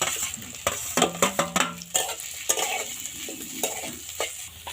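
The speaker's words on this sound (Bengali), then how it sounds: "চিড়েবাদামটা একটু ভাজতে লাগবে, যাতে খুব ভালো ভাজা" Flattened rice and peanuts being fried and stirred in a pan, a hissing sizzle broken by a run of sharp scraping and clinking strokes from a spatula, close and prominent.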